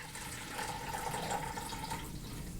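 Distilled white vinegar at 10% acidity poured into the empty tank of a Degritter Mark II record cleaning machine, a steady splashing liquid stream running close and continuous for about two seconds before tapering off.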